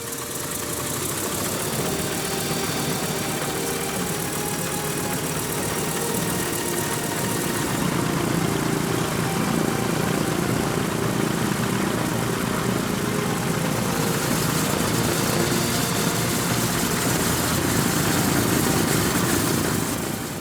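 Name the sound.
historic WWII aircraft propeller engine starting and running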